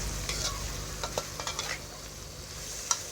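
Cucumber and egg being stir-fried in a pan, giving a close, continuous sizzle with a few soft spatula scrapes and a sharp clink near the end; no talking.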